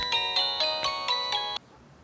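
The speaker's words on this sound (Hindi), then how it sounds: "बाबा, फोन बज रहा है आपका।" A mobile phone ringtone in a Turkish drama scene plays a bright, repeating electronic chime pattern, loud and close, with several quick pulses before it cuts off abruptly.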